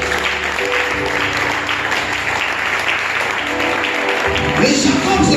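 Congregation clapping and cheering in praise during a French-language church service, a loud sustained wash of applause that swells slightly near the end, filling the room.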